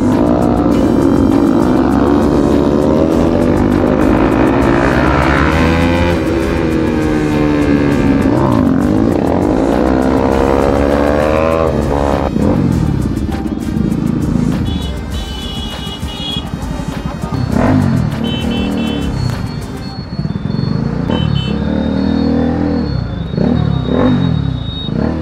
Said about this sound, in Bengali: এতগুলো বাইক একসঙ্গে যাওয়া হচ্ছে